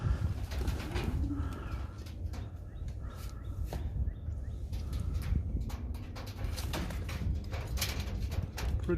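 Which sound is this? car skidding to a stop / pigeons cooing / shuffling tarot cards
pigeons cooing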